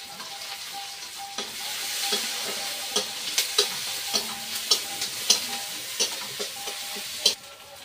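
Chopped onion and green chili sautéing in hot oil in a pan: a constant close sizzle with irregular scrapes and clinks of a spatula stirring, the knocks growing sharper and more frequent toward the end.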